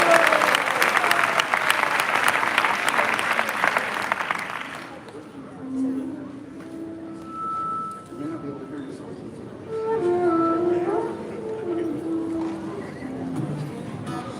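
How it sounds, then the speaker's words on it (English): Audience applause at a devotional festival gathering rises loud and dense for several seconds, then fades out into scattered claps while a singer's voice and instrumental tones take over. "Let's have a round of applause for Gaura."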